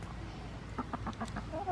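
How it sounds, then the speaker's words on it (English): Chickens cluck close by in a short series of quick, distinct clucks, with a low background hum beneath them. "We bought all these chickens."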